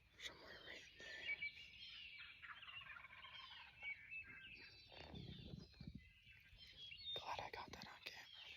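A wild turkey gobbles at a distance during a Vermont hunt, faint bursts rising over quiet woodland background with soft whispering nearby.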